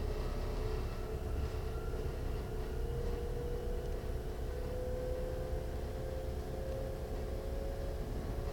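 An ET 430 S-Bahn Stuttgart electric train on the S1 toward Herrenberg runs steadily, with a continuous low rumble and a rising motor whine throughout, close and constant.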